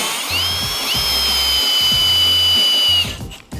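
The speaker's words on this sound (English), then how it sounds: "I'm just drilling a pilot hole because I don't want the wood to split or anything" A power drill bores a pilot hole into wood for a beginner workbench leg, a loud close whine rising in pitch as the motor spins up, running steadily for about three seconds before cutting off.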